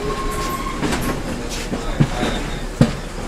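A rail wagon rolls off the main line onto a siding in Kraków, giving a steady low rumble with two sharp metallic clunks toward the end.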